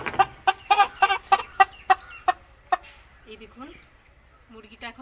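A live chicken clucking up close, a quick series of about eight sharp rhythmic clucks that slow and fade, followed by softer scattered sounds.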